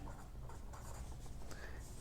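Pen writing numbers by hand on paper, a soft continuous scratching close by, faint and steady with slight strokes, over low background hum.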